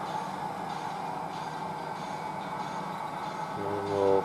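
A cut of model railroad cars rolls along the track during staging operations, a steady low rumble of wheels that grows louder near the end with a brief metallic tone.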